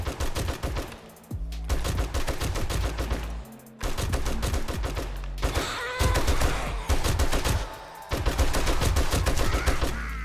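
Automatic rifle firing 7.62 rounds in 7 Days to Die, with loud sustained rapid bursts broken by brief pauses, close and continuous over about ten seconds.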